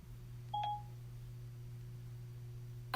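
A voice assistant confirms a timer with a single short electronic beep, clear and close, over a steady low hum in a quiet room.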